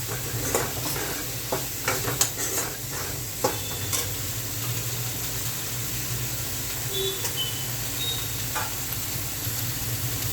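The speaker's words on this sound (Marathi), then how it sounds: "फुल गॅसवर 5 मिनिटं परतून घेते." Elephant foot yam (suran) pieces sautéing in a pan over a full flame, a steady sizzle with intermittent stirring scrapes and clatters, close and continuous with no talk.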